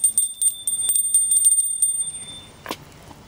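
Small hand bell rung during a Hindu puja, a bright metallic ringing repeated in quick rhythmic strokes, close and clear, then fading out near the end with a softer clink.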